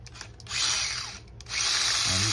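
Power sander rounding off the freshly cut edge of a piece for a B-17 wing, two short whining bursts of high buzzing separated by a brief pause, close by, with a faint low hum beneath.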